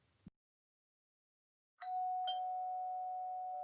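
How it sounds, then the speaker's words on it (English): A doorbell chimes indoors, two clear ding-dong tones ringing out and lingering after a brief knock-like tap and a moment of silence. "Marinette's ears perked up as she heard the doorbell ring."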